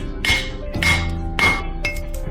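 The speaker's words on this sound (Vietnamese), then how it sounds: "May mà có cái búa bổ trợ luôn." A hammer strikes broken brick rubble in an overgrown garden beside an old riverside house, four sharp metallic clanks spaced about half a second apart, close and loud with brief ringing after each hit.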